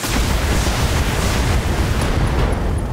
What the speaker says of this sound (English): Oh my god, LRM ammo explosion!